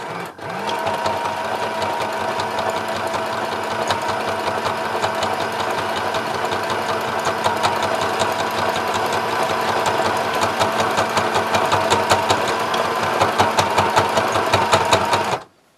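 Sewing machine running steadily while stitching a line on a tote bag pocket, a continuous fast whirring hum with rapid needle clatter, close and loud, no talk.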